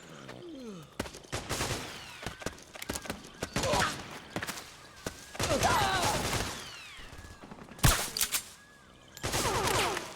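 Gunfire bursts and scattered shots in Metal Gear Solid 4 combat, close and loud, mixed with voices and other battle noise.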